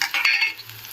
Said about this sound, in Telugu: ఇప్పుడు ఇందులోకి మనం పచ్చిమిర్చి వేసుకుందాము